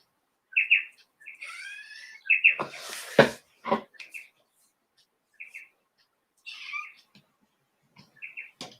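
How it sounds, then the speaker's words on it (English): A cat indoors gives short, high chirping meows in scattered bursts, fairly close but quiet, with a few thumps and soft talk between them. "What are you meowing at?"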